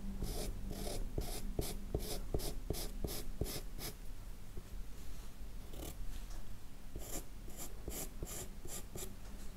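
A gray pencil sketches fur on paper for a cat drawing, giving close, rhythmic scratchy strokes in quick repeated bursts with a brief pause midway, set against a steady low hum.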